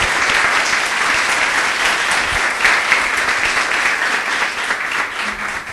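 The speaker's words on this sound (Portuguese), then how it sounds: "Louve ao Senhor com suas palmas, bem forte." Congregation at a Mother's Day church service clapping hands loudly in praise, a thick, even wash of many claps that stays strong and unbroken for the whole stretch.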